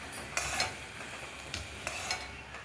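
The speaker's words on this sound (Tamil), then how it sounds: "நல்லா கொதித்து நல்லா திக்காகிற வரைக்கும் கலந்துக்கிட்டே நம்ம இதை கொதிக்க வச்சுக்கலாம்" A spoon scrapes and stirs through bubbling, sizzling jaggery syrup in a pan, thickening as it boils, with a few distinct scraping strokes over a soft steady simmer.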